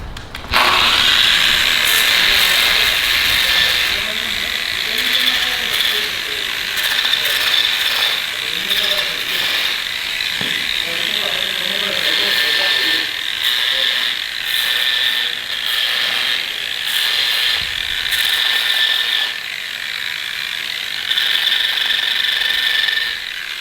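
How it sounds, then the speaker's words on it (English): Power sander working over an epoxy-coated garage floor to flatten bubbles, a loud, continuous whining grind close by with rough scraping texture that runs unbroken for the whole stretch. "So we're gonna sand these down so we have a nice smooth surface to put the gold glitter down on."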